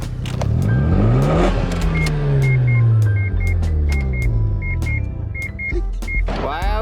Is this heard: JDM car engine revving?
yes